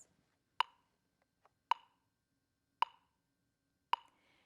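A handheld metronome set to 50 gives four sharp, isolated ticks spaced about a second apart against near silence, fairly quiet and close.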